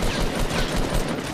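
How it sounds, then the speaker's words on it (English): Gunfire from a Fortnite Battle Royale match, a dense fusillade of rapid overlapping shots rolling on continuously, loud and close with no pauses. "Oh, they're shooting."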